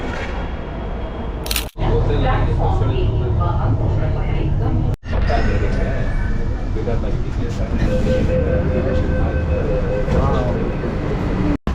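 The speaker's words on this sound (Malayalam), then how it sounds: "ഒരു ട്രെയിൻ വന്ന് നോക്കട്ടെ" A metro train rumbles steadily through an enclosed station in Bangalore, loud and continuous, with brief dropouts and people talking over the noise.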